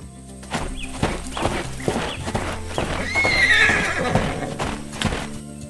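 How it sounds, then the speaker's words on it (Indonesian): Animated horses neigh and whinny with busy clip-clopping hooves as they leap about a green rice field beside a wooden farm building, windmill and tractor, layered over a bright musical backing. "Kuda-kuda itu sedang melompat-lompat di tengah sawah yang hijau."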